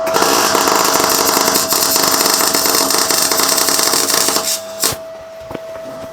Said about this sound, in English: now we can weld it.